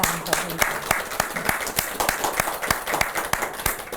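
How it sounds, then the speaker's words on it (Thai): Applause for the host from a small studio audience on a Thai health program, distinct individual claps at a brisk even rhythm with quieter clapping in between, close and fairly loud. "ขอทุกท่านขอเสียงปรบมือให้กับเจ้าภาพด้วยนะครับ"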